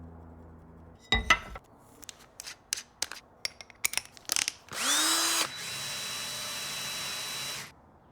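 A power drill enlarges a hole in a wooden table base to make room for a bolt. First come handling clunks and taps, then a loud close whir that spins up, and finally a longer, steady drilling run.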